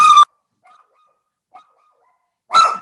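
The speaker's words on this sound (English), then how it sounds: "The dog is barking," A dog barks at someone at the door: two loud bursts of barking, one at the start and one near the end, separated by near silence with a few faint sounds.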